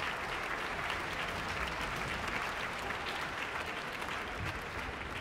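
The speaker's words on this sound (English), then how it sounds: "Please give her a round of applause as she enters the stage." Sustained, dense audience applause at a high school music festival concert as a guest walks onto the stage, steady and even throughout with no break and no talking.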